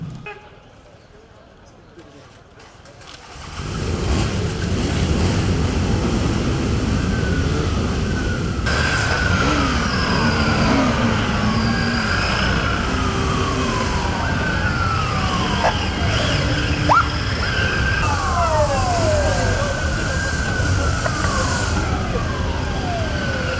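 Turkish police motorcycles at a police anniversary celebration, sirens wailing and sweeping in repeated rising and falling tones over a constant loud engine and crowd roar, several sirens overlapping through most of the stretch.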